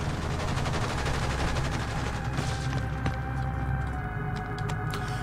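Sustained rapid turret gunfire in the sci-fi space game Genesis Alpha One, a dense steady rattle of shots with occasional sharper bursts, loud and continuous with no talking.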